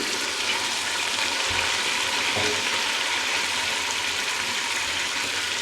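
Steady, loud sizzling of mutton frying in hot oil with onions, a continuous crackling hiss throughout with a few faint stirring sounds.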